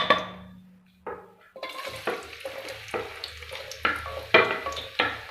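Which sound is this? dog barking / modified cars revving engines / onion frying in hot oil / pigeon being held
onion frying in hot oil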